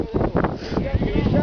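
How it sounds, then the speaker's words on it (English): Gusty wind buffets the microphone on a ski slope at Red River, a steady low rumble running throughout beneath a voice. "it's windy."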